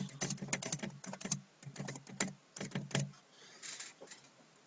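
Rapid keystrokes on a computer keyboard come in quick bursts with short pauses, close and clear with no talking, then fade into quiet room noise near the end.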